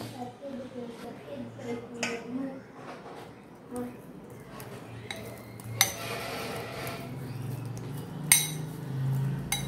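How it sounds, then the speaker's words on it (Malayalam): Soya chunks being tossed into a bowl of masala, with a spoon scraping and clinking against the bowl in scattered taps and knocks, fairly close, while someone talks over much of it. "ഇനി നമുക്കിതിലേക്ക് എടുത്തു വച്ചിരിക്കുന്ന സോയ ചങ്ക്സ് ഇട്ട് മിക്സ് ചെയ്ത് കൊടുക്കാം."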